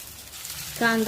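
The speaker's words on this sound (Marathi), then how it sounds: "भांड्यामध्ये तेल, बारीक कट केलेला कांदा" Finely chopped onion hits hot oil in a pan for brinjal chutney, giving a brief, close sizzle that swells in the last moments after a quiet kitchen lead-in.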